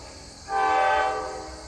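A Norfolk Southern rescue locomotive sounds its horn once, a loud sustained blast rising suddenly, holding about half a second, then fading under a low rumble.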